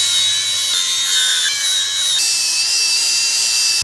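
A power tool cleaning mill scale off a quarter-inch steel base plate, giving a loud, steady high-pitched whine and grinding hiss held close and continuous, shifting pitch slightly partway through before cutting off at the end.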